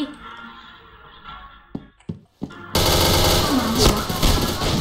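Video game gunfire: a few sharp, isolated shots, then a sudden loud, sustained barrage of rapid fire that fills the rest of the clip at close range.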